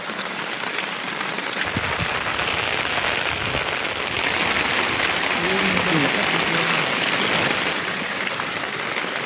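Heavy rain pours down in a village, a dense steady hiss of drops on surfaces and running water that holds for the whole stretch, with someone talking briefly partway through.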